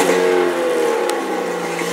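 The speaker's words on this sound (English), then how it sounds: "I have it on throttle only. It does have a rev limiter, so as I'm revving it up, the computer's keeping it from over revving." A 2013 Sun Tracker Party Barge 250 XP3 boat engine revs in neutral on throttle only, a loud, sustained high-pitched engine whine that holds near the rev limit and wavers slightly as it is cut.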